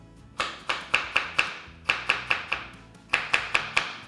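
Carrots being julienned with a knife on a cutting board, sharp close chops in quick bursts of four or five evenly spaced strokes separated by short pauses, with no talking.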